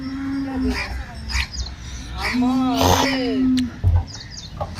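An HF cow at a cattle market in Loni gives a couple of drawn-out moos, with market noise and people talking around it.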